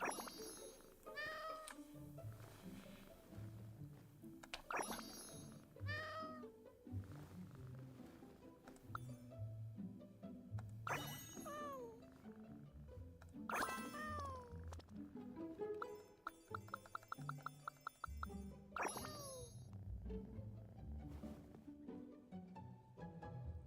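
Cats meow repeatedly in Genshin Impact, several rising, wavering calls spaced every few seconds over a soft game music bed, fairly close and clear, with a brief purring or rattling stretch in the middle.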